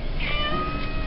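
A cat meows with a rising, drawn-out call, followed by a softer second mew, close by over a steady low background hum.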